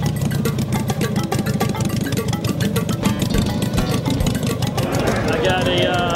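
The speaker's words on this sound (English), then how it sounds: "after hours bike, 81 Ironhead motor" A 1981 Harley-Davidson Ironhead engine rumbles at a loose, lumpy idle on a stripped-down after-hours bike at a Key West poker run, running steadily under a voice talking over it.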